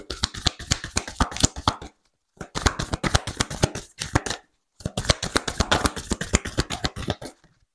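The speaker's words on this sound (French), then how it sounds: "on va prendre une dernière petite carte pour vous, les balances" Tarot cards riffled and shuffled by hand in three quick bursts of crisp, rapid flicking with brief pauses between, close and fairly quiet, no voices.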